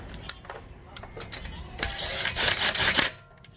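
An impact wrench or ratchet runs in short bursts while tightening wheel lug nuts on a car, with a sharp click at the start and a longer sustained whir near the end, close and fairly loud.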